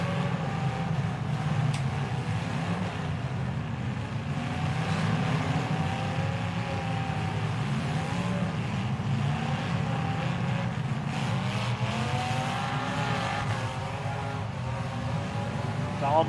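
Demolition derby car engine revving hard and steady under the driver's foot, a continuous loud low roar with rising and falling pitch sweeps, other engines droning in the arena around it.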